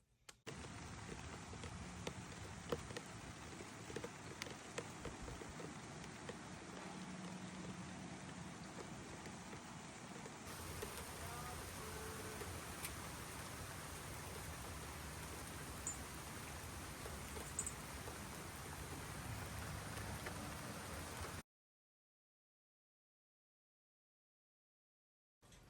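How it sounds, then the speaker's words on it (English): Rain falls on a stormy day as a faint, steady hiss of drops, continuous and unbroken for about twenty seconds before cutting to near silence. "It is a stormy, rainy day here"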